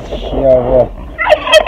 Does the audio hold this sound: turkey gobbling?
yes